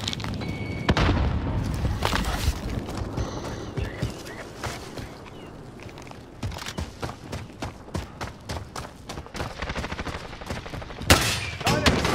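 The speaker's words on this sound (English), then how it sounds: "Throwing grenade." A grenade explodes amid heavy gunfire in a battle royale video game: dense bursts of rapid shots and booms that pause briefly midway, then resume in sharp volleys, with faint voices underneath.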